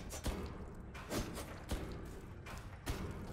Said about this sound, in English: The dude banging his head underneath us.